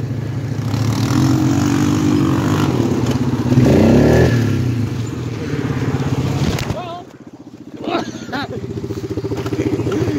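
A quad ATV engine drones and revs loudly up close while tearing up a yard, holding a steady roar, dipping briefly, then picking back up, with a person talking over it.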